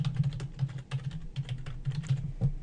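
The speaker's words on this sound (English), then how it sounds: "now you type the title of your paper in all caps without that running head thing" Rapid, steady keystrokes on a computer keyboard while a paper title is typed in all caps in Microsoft Word, close and clear with no talking.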